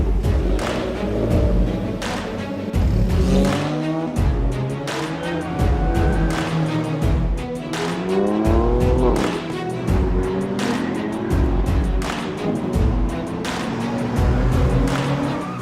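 Cars race hard around the Vancouver Island Motorsport Circuit, engines revving up and down through gear changes with tire squeal, passing close and loud in a continuous stream with no voices.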